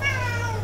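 A cat meows once in a short, drawn-out call, close and clear over a steady low hum in a home.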